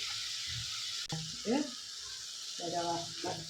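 Grated coconut sautés in a pan with a soft, steady sizzle and occasional stirring scrapes, while people talk intermittently over it.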